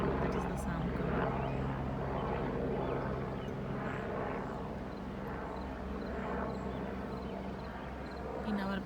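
An airplane passes overhead above a suburban garden with wisteria and cosmos, a steady droning hum that holds near and fairly loud, with a voice speaking over it.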